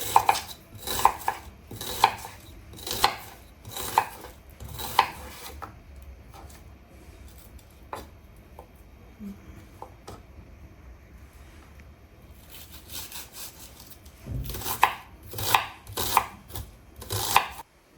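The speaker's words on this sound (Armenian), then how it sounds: "սոխը կտրատեմ" A knife chops an onion rhythmically on a board in quick repeated strikes, pausing for several seconds in the middle before the steady chopping resumes, close by.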